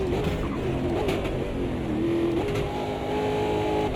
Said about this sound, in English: We did something where we did something with a turbo and you could hear it spool.